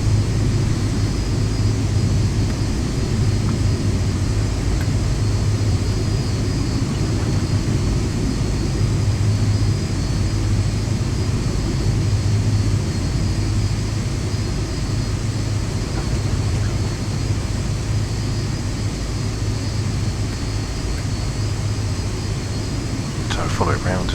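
Boeing 747-200 with RB211 jet engines in the X-Plane 11 flight simulator, a steady loud roar and hum of the engines at takeoff, holding even throughout with a faint click near the end.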